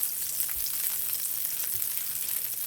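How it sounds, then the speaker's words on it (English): Foamy butter sizzling in a frying pan, a steady close crackling hiss with no talk over it. "butter all nice and foamy. You can hear that beautiful sizzle."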